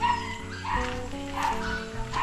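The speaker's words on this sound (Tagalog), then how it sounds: "Dito na rin yung aso nila, dito na natulog." A dog barks and yips nearby at a house in the Philippines, several short sharp barks in quick succession over a faint background hum.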